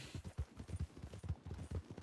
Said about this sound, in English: This fucking horse is so goddamn slow.